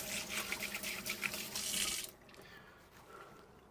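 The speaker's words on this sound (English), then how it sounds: "Wash my hands." Hands washed under a running faucet at an RV park: a soft, steady stream of water splashing for about two seconds, then the flow stops and only faint dripping and room sound remain.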